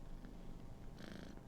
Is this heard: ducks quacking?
no